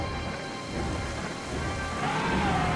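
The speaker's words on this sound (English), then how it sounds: "where it's going to start raining" Rain beginning to fall in Zelda: Twilight Princess HD, a steady hiss of rainfall with a low rumble like distant thunder and a faint rising tone near the end.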